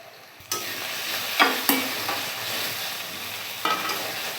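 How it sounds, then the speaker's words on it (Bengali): Ginger and garlic frying in oil in a pan for an egg curry, with a steady close sizzle broken by a few clanks and scrapes as a spatula stirs, no voices. "আদা রসুন ভালোভাবে কষানো হয়ে গেছে"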